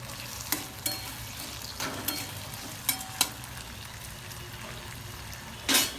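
Salted diced potatoes sizzling steadily in a pan for sabudana khichdi, a constant frying hiss broken by a few scattered clinks and stirring scrapes.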